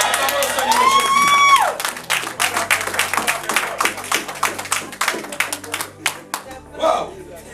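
A church congregation breaks into rhythmic clapping and cheering, loud and dense, running steadily after a raised voice at the start, with scattered shouts mixed through the crowd.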